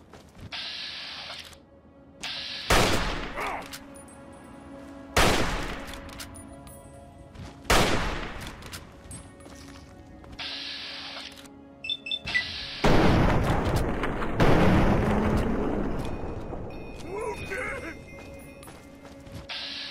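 Bursts of gunfire in a firefight from the Fallout 3 game at the Washington Monument area, arriving in loud separated volleys every few seconds, with a denser, sustained stretch of fire near the end.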